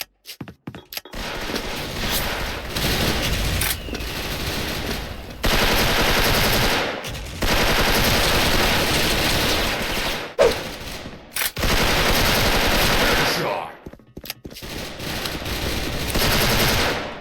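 A gold M4A1 rifle fires in a shooter video game in long, loud, rapid automatic bursts, separated by brief pauses, with no talk over the gunfire.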